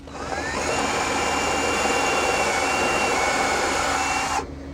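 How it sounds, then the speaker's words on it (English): A power drill bores a pilot hole into a boat transom in one continuous, loud, close whine that holds for about four seconds and then cuts off sharply. "We'll pilot hole first."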